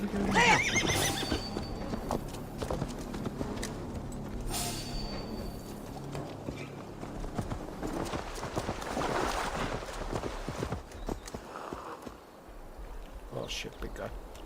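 A horse whinnies loudly at the start, then hooves clip-clop in a steady rhythm with game-like clatter in Assassin's Creed Valhalla, and a voice talks over parts of it.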